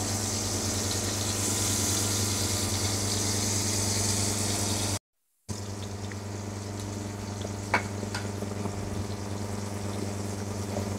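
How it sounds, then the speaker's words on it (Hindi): Okra (bhindi) fries in hot oil with a steady, loud sizzle and hiss that runs continuously, cut by one brief silent gap partway through. "ये तकरीबन फ्राई होने वाली हैं, फिर हम इनको निकाल लेंगे अच्छे तरह से ऑयल निकाल कर इनमें से।"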